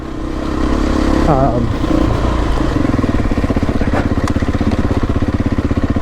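A Beta 350 dirt bike engine runs steadily close by, a loud, even, throbbing drone with a brief rise in revs early on, with no voices over it.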